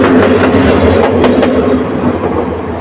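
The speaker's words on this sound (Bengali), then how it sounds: "এই যে কিশোরগঞ্জ এক্সপ্রেস ট্রেনের লোকোমোটিভ এটিকে তার বিপরীত পাশে গিয়ে সংযুক্ত হবে।" A Kishorganj Express locomotive rumbles loudly and close at a station as it moves off to couple onto the other end of the train, a continuous low engine drone with a few sharp metallic clanks early on.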